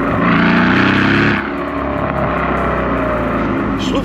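Loud, close roar of a Brabus convertible's engine that revs high, then drops to a lower rumbling drone, heard in the open air.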